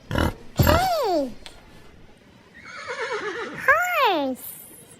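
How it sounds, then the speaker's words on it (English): A farm horse whinnies twice, each neigh a shrill, quavering call that falls in pitch, separated by a quieter stretch, with a brief snort or grunt at the start. "horse,"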